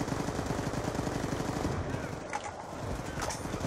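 Sustained automatic weapon spray in Call of Duty Black Ops II zombies on the Buried map, a fast, steady string of close shots that briefly thins and then resumes, with game noise behind it.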